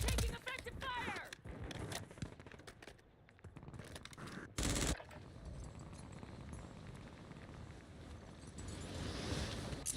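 Automatic weapons fire in the Warzone shooter game: loud, dense bursts of rapid gunshots with sharp cracks over a constant noisy battle bed, a brief lull near the middle, then more sustained firing.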